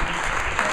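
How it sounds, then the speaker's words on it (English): Dense audience applause at a Bend town hall on the legislative outlook, a steady loud wash of many hands clapping at once that holds level for under a second. "So big round of applause for all of you."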